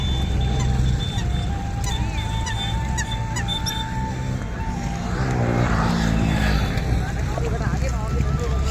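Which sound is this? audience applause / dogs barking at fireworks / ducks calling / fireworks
ducks calling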